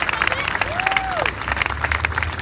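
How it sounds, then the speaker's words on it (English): Applause from a crowd at a rally against terrorism, dense clapping at moderate distance with a few cheers mixed in and a brief whistle-like tone rising and falling partway through. "Give them a round of applause."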